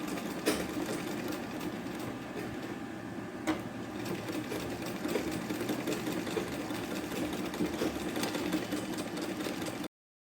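Sewing machine stitching small fabric latkan pieces, a steady whirring motor with a fast needle chatter that runs close and even for about ten seconds before stopping abruptly.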